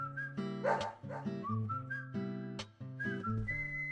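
A dog in the game Deadly Premonition whimpers and gives short barks over whistling melodic music, with several distinct yelps spread across the passage.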